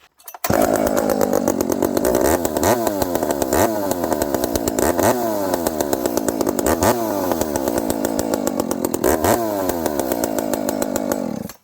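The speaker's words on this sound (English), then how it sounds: "Again, what a reliable saw. Just fires right up." A Dolmar 7300 chainsaw fitted with a Bearclaw exhaust pipe runs loud and close for the whole stretch, its rasping two-stroke engine revving up and down in repeated throttle blips.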